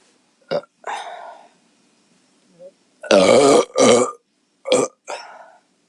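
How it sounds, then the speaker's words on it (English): A woman burps after drinking beer, letting out a string of loud, close burps of varying length. The burps come in separate bursts with quiet gaps between them, a few short and a couple deeper and longer. "All those little burps"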